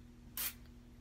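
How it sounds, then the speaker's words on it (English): A short, close burst of concentrated Twisted Peppermint room spray, one quick pump lasting about a second over a quiet room. "It's like room, concentrated room spray."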